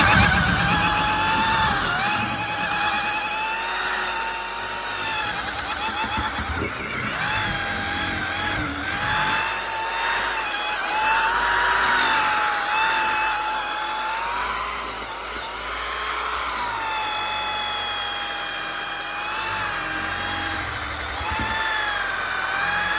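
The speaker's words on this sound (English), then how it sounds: "And then with the Orbital Polisher, just going to polish it." An orbital polisher works the paintwork of a Land Rover Defender with Menzerna all-in-one polish, giving a continuous wavering motor whir with a high whine that rises and falls slightly, steady and close throughout, with no talking.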